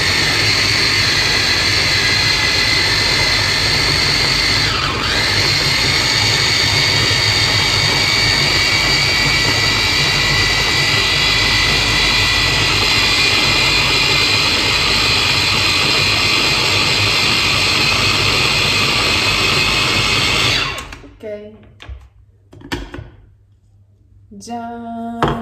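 A Kenwood blender grinds onion in a long, loud, steady high-speed whine for about twenty seconds, then winds down into scattered rattles and knocks.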